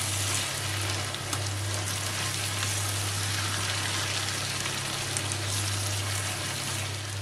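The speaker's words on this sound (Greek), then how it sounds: "Θα σοτάρουμε για άλλα 3 με 4 λεπτά να βγουν τα αρώματα του πελτέ" Tomato paste with a spoonful of sugar sautés in a pan, a steady, even hiss of frying that carries on alone without pause under a low constant hum.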